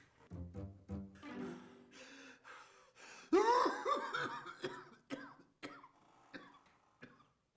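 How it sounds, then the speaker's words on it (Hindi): Several sharp coughs in a row, close and fairly loud, with a heavier burst in the middle followed by smaller coughs and breaths. "ये खांसी आपको कब से है?"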